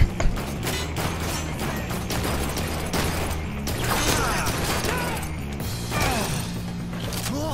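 Rapid gunfire from the Blue Estate shooter on PS4, a dense stream of shots with mechanical clatter layered over a continuous game soundtrack, loud and close throughout.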